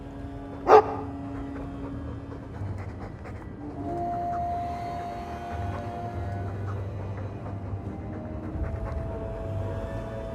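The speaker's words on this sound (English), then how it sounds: "We might soon have need for a war dog." A Mabari war dog in Dragon Age 2 gives a single sharp, loud bark near the start, followed by a long stretch of low game ambience with faint tonal hums and no talk.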